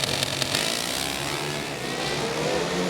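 A Pro Stock Motorcycle roars down a drag strip at a US Nationals event, a loud continuous high-revving engine howl with a dense, steady broadband blare and no voices.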